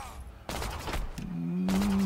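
Bursts of gunfire in the strategy game Millennia, fired at a tower: a short volley, then a second heavier burst, loud and near, with a rising tonal drone underneath.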